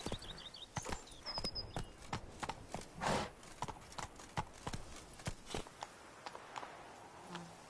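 Horse hooves clip-clop steadily in a Witcher 3: Blood and Wine game scene, a regular rhythm of sharp close hoof strikes at a trot or gallop pace, with no voices over them.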